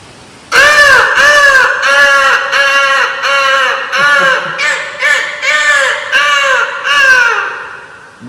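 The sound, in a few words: man imitating a crow cawing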